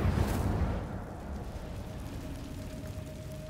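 A fire spell bursts out in Hogwarts Legacy, a loud roaring whoosh that swells in the first second and then settles into a steady crackling rumble inside a cave, with a thin tone lingering beneath.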